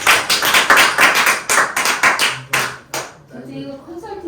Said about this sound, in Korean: 주신 오다로 대표님께 다시 한번 큰 박수로